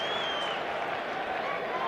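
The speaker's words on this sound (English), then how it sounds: "And another round of applause here." A cricket crowd at a New Zealand versus India semi-final in Sydney applauds as a dense, steady wash of distant clapping that carries on without pause.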